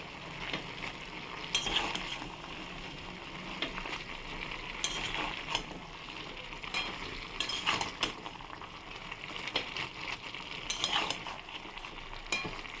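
Spoon stirring mixed vegetables with fish head, chili powder and spices in a pan, sizzling and frying steadily with repeated scraping clinks of utensil against the pan, close and continuous, no talking.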